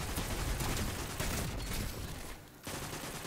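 Shotgun firing in the Destiny 2 video game amid a dense, continuous wash of loud gunfire and explosions that briefly dips near the end, no talk.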